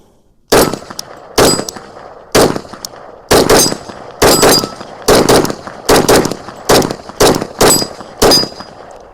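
Carbine fitted with a 40 Smith & Wesson conversion barrel firing about a dozen sharp, loud shots at an irregular, fairly quick pace outdoors, each crack ending in a short ringing tail, with no talk.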